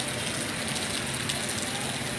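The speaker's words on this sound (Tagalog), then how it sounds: "Umuulan na ang panahon, ha? Umuulan." Monsoon rain pours steadily, a dense, even hiss filling the space without pause, moderately loud and close, with no talk.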